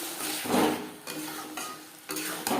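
Onions fry with spices in a pan for a fish and tomato curry, giving a close, steady sizzle broken by repeated scraping strokes as they are stirred.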